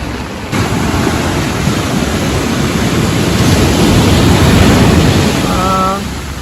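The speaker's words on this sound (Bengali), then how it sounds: "এই দেখো বিচটা, ওয়াও কি সুন্দর লাগছে।" Ocean waves wash onto a sandy beach in Pondicherry, a continuous close surf roar with wind noise, and a voice cuts in briefly near the end.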